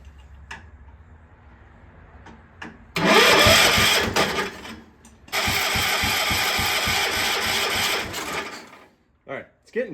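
Cub Cadet 1250 garden tractor engine cranking over, two loud bursts of rhythmic chugging from the starter separated by a brief pause, with clicks and faint talk around them.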